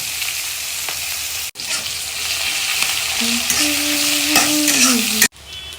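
Onion, ginger paste and green chili sizzle in hot oil with a bright, steady hiss, interrupted by two sharp cuts and stirring scrapes, while a faint rising tone sounds in the middle.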